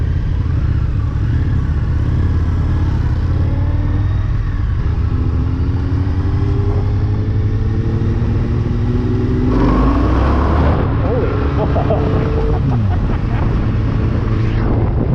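A loud Indian FTR 1200 motorcycle engine runs close by, climbing through rising revs toward 9,000 RPM with rapid throttle blips, then roaring harder before dropping back near the end.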